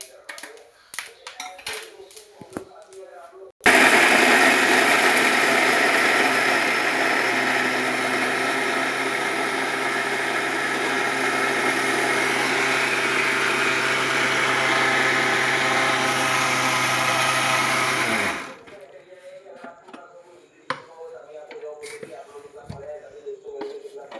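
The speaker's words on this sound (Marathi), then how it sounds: "आता हे मिक्सरवर बारीक करून घ्यायचे आपल्याला शेंगदाणे" A mixer grinder pulverises roasted peanuts in a loud, steady whirring roar that starts abruptly, runs unbroken for about fifteen seconds, then cuts off, with a voice talking before and after.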